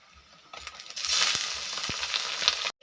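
Chicken pieces sizzling in a hot pan for Bengali chicken kosha, a steady close frying hiss that swells after a quiet start, with a few clinks and stirring knocks.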